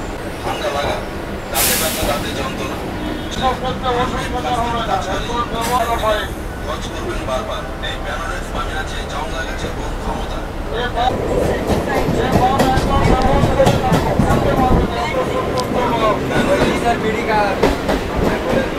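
A local train pulls out of Sealdah station, its carriages rumbling and clattering steadily and growing louder as it gathers pace, with passenger chatter running throughout.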